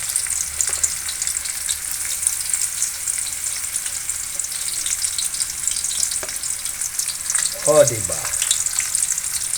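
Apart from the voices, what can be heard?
garlic and onion frying in a pan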